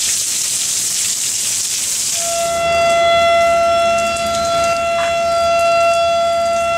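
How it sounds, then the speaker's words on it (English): An air raid siren starts up during a rainy day and holds a loud, steady wail over constant rain hiss, with no voices. "And the air raid siren just went off."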